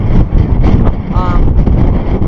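Gusty wind, up to 40 miles per hour, batters the microphone out on a lake during bass fishing, a loud, rumbling buffet with a voice speaking beneath it.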